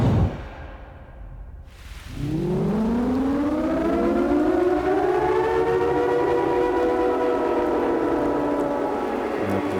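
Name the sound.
siren going off in the video game Siren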